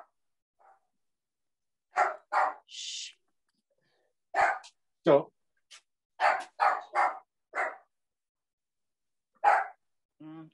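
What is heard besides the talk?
dog barking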